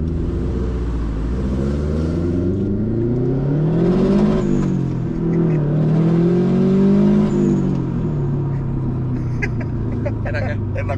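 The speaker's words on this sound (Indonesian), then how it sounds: "Karena ada rumble-nya dan ada suara wastegate-nya itu yang bikin senyum." Subaru Impreza WRX STI GD engine revving in a home garage, deep rumbling exhaust swelling through two throttle blips with wastegate chatter as revs fall, loud and close, with people talking over it.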